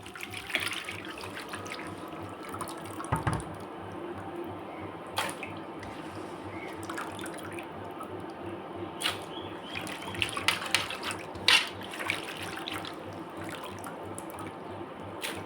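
Water runs and splashes into a bowl of grated elephant foot yam in a home kitchen, a steady faint trickle broken by a few louder clinks and splashes.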